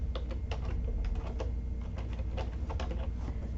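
Rapid clicking of keys on a computer keyboard while typing in an office setting, a quick irregular patter of light taps heard close up over a low steady hum.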